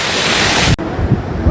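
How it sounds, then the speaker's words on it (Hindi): A waterfall beside the Kedarnath trek route roars as loud, dense broadband rush close by. It cuts off abruptly partway through to a quieter outdoor background with faint murmurs. "झरना देखो यहाँ तक बूंदें आ रही है"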